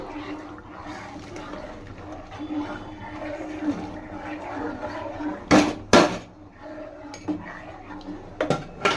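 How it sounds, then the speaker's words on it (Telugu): Semolina being stirred into boiling water in a pot for rava payasam, a steady bubbling and scraping bed broken by a few sharp metallic clanks of a utensil against the pot, fairly close. "ఈ రవ్వ కొంచెం కొంచెంగా యాడ్ చేసుకుంటూ కలుపుకుంటా ఉండండి ఫ్రెండ్స్"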